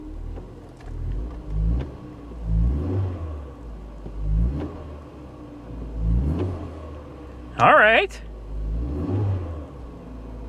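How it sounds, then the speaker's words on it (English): Hyundai Veloster Turbo engine idling, then given several brief, moderate revs kept below 3,000 RPM, each rising and falling in a smooth surge; a short chirping squeal cuts in near the end, and a voice speaks briefly. "Let's give her a little rev."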